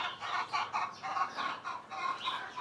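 A duck on a ranch during morning chores gives a run of rapid, throaty calls in quick bursts, close by and steady throughout, with no one speaking.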